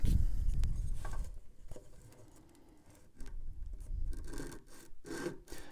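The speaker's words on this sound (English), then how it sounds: "I usually give this just a little bit more sanding" Rasping sanding strokes close by on wooden guitar binding, coming in uneven bursts with brief pauses, a dry scratchy friction sound with no talking.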